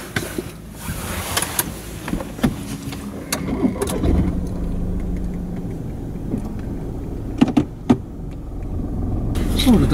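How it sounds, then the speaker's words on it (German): A driving-school car engine turns over and starts, then idles with a low rumble, with clicks and small clunks inside the car nearby. "Da darfst du schon den Motor starten."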